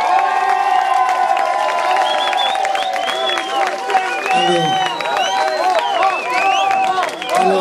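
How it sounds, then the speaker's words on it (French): A festival crowd at the 2012 Nuits Atypiques opening applauds and cheers the band Chakaraka, with loud claps mixed with whoops, shouts and excited voices carrying across the whole stretch. "merci de les applaudir."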